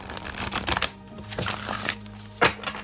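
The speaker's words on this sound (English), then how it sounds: "It's not the easiest deck to riffle shuffle." Age of Aquarius tarot cards are riffle shuffled, giving quick crisp flutters of cards in a few bursts, close and alone.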